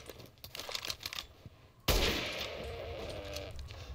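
Sharp gunshots ring out in the survival horror game Resident Evil Village, a few scattered reports early on, then one loud blast that leaves a sustained rumbling noise, with no speech.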